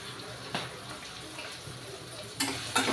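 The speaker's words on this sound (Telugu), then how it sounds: "ఇవి శుభ్రంగా కలుపుకోవాలి ఒక నిమిషం పాటు ఇలా వేయించుకొని" Bitter gourd curry with chili powder, turmeric and salt being stirred and fried in a pan, a soft steady sizzle with a few louder scraping stirs near the end.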